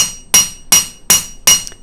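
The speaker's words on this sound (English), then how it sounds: "Just relax and toss and throw the hammer." Four evenly spaced, sharp metallic hammer blows ring out close and loud on a copper sheet being fold formed for jewelry making, each strike decaying quickly before the next.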